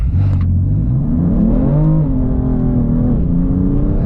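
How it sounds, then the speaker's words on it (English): A BMW M3 Competition engine revs hard at a launch with the brake held and the throttle floored. It rises in pitch, holds at high revs, then dips and settles into a steady, loud, close drone. "left foot on the brake, floor the throttle"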